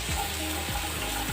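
Chopped ginger, onion, beans and capsicum sizzle and hiss in a pan, a close, continuous frying sound with faint scraping from stirring.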